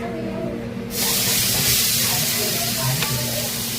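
Spicy tempering for Maggi hits a hot pan and bursts into a loud, sustained sizzle that starts abruptly and hisses steadily, with faint voices in the background.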